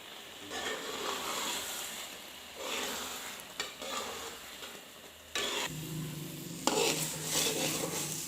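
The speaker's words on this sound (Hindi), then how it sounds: "अब हम इसे अच्छे से मिक्स करके 10 से 15 मिनट के लिए मज़ीद पका लेते हैं" Halwa cooking with milk in a pan is stirred with a spoon, giving scraping and clinking strokes over a soft, steady sizzle that continues throughout, with no talking.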